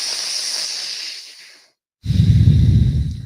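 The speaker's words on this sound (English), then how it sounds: "Really pull the air deep in the lungs." Deep, fast breathwork inhalations and exhalations, close and hissing, with a long airy breath fading into a brief silence before a louder, rougher breath begins.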